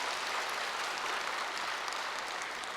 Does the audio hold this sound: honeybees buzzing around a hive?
no